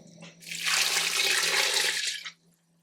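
Water poured into a pressure cooker during home cooking, a short steady rushing splash lasting about two seconds, close and fairly loud, fading out at the end.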